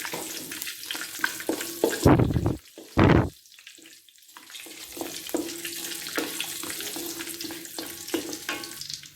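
Bay leaves and cumin seeds sauté in hot oil for a vegetable kurma, with a soft continuous sizzle crackling close by and two brief louder rushes of hissing as the spices hit the pan.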